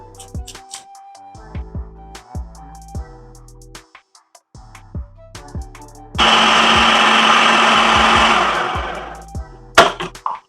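An Amazon Basics food processor whirs loud and steady for about three seconds in the middle of the clip, cutting off abruptly, with light kitchen clatter and taps before and a short burst after.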